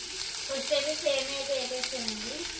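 Onion slices, green chillies and tomato pieces frying in a pan for semiya upma give a steady close sizzle, with a faint wavering voice-like tone drifting over it.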